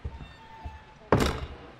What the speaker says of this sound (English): So someone's knocking on this door.